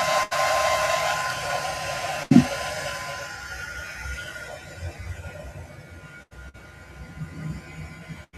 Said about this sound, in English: I'm going to use my heat gun